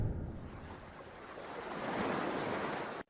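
Sea waves wash steadily onto the shore beside a luxury hotel at Jacqueville on the Ivory Coast, a continuous loud surf roar mixed with wind, cut off abruptly at the end.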